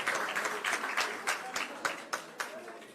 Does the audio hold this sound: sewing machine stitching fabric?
no